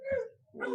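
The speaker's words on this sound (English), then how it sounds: "That's one of them Southern dogs there raising cane." A Southern hunting dog barks twice in quick succession, distant and fairly faint, with a brief gap between the two yelps.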